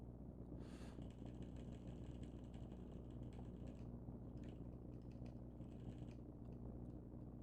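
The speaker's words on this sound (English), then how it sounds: "can you hear me typing?" Soft, quiet keyboard typing in scattered bursts of key clicks over a steady low hum, faint and close.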